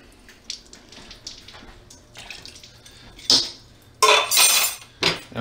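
Water poured into a can holding baking soda, with trickling, splashing pours and a couple of louder bursts near the end, and no talk.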